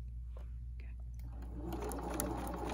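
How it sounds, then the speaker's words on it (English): A sewing machine stitches quilt squares a quarter inch from a marked line, a steady low mechanical whir running throughout and growing slightly louder toward the end, with no talking. "then I'm going to take it to my sewing machine and I'm going to sew 1/4 inch on each side of the line"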